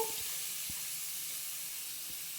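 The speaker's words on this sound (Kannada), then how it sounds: "ತುಪ್ಪದಲ್ಲಿ ಈ ಕ್ಯಾರೆಟನ್ನು ಫುಲ್ಲು ಹಸಿ ವಾಸನೆ ಹೋಗೋವರೆಗೂ ಚೆನ್ನಾಗಿ ಫ್ರೈ ಮಾಡ್ಕೊಳ್ಬೇಕು" Grated carrot frying in ghee in a pan, a steady soft sizzle and hiss running throughout with a few faint low knocks, close and alone without talk.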